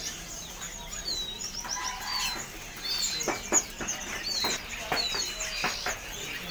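Caged jalak songbirds at Pramuka bird market, Jakarta, with faint chirps and whistles scattered among market noise, and people talking quietly nearby.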